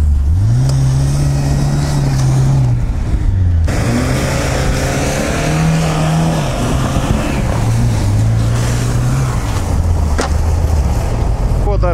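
A UAZ Patriot off-road vehicle's engine drones loud and close as it strains to drive out, its pitch rising and falling with repeated revving over twelve seconds, with people talking over it.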